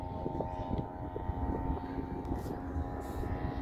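A Habicht model airplane from Schneider Modellbau flies over a windy model airfield, its engine droning steadily in the distance beneath wind noise.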